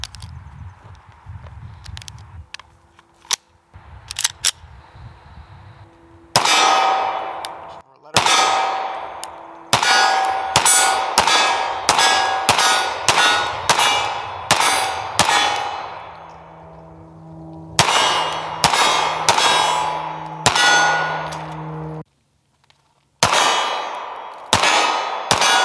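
Rapid pistol shots from a CZ P-09 C Nocturne fired at targets outdoors, loud sharp cracks with metallic pings of steel targets, in quick strings separated by brief pauses, with a few faint clinks before the shooting starts.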